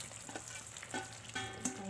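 Okra goes into a simmering tamarind broth for a South Indian kulambu, giving a close, steady bubbling sizzle with a few soft splashes and stirring sounds.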